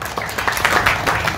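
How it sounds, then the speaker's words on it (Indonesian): Brief burst of audience applause in a hall, dense overlapping claps at fairly close range, lasting only a moment. "Tepuk tangan untuk kita semua."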